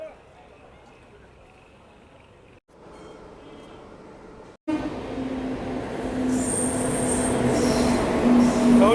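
A Jan Shatabdi express train arrives at Jaleswar railway station, rumbling in and growing steadily louder with metallic wheel squeal and a sustained tone, after quieter station ambience and abrupt cuts.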